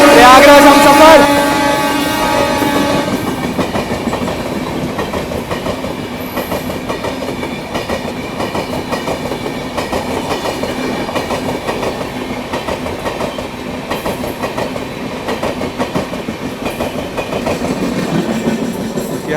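The 15658 Brahmaputra Mail express train runs at high speed, a loud continuous rumble with a steady clatter of wheels on rail. A voice speaks briefly over the noise near the start.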